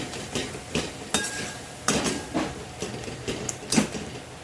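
Masala and tomato stirred in oil in a pan, a spoon scraping and knocking against metal in irregular clinks and strokes, close by with light sizzle beneath.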